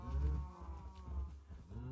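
Cows moo in the video game Minecraft, giving low, drawn-out bellows close by, with one long moo followed by shorter ones and no talking.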